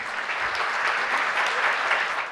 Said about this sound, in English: You all deserve a resounding applause.